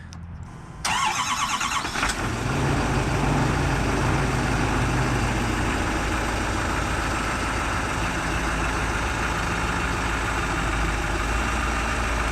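A Chevrolet Silverado 2500 pickup with a 6.6-liter Duramax diesel engine cranks and starts, then settles into a loud, steady, close idle with a deep rumbling throb throughout, heard from the front of the truck.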